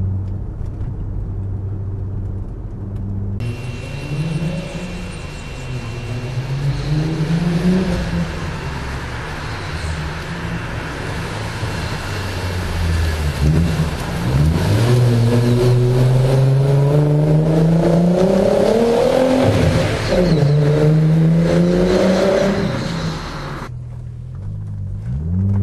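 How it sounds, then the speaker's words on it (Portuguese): A 1990s Audi S4 B5 pulls hard through its gears, a full-bodied engine rumble rising in pitch with each run and dropping at the shifts, loud and close from inside the car, with no talk over it. "É um ronco encorpado, um ronco que indica que ali tem alguma coisa especial."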